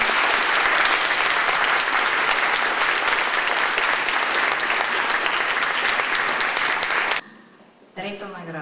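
A large audience at the Bulgarian Person of the Year 2010 awards applauds an honoree, dense, loud, sustained clapping that cuts off abruptly, after which a voice begins speaking.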